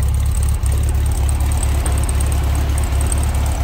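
Close, loud idle of a 1966 Volkswagen Beetle engine, seen in its engine bay: a steady low rumble with a regular pulsing beat that holds throughout, with no talking.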